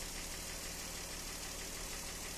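A Jeep engine idling steadily after warm-up, a continuous even rumble heard close up during an automatic transmission fluid change, with no speech.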